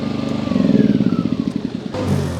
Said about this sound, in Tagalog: Napakatibay po ng generator na ito.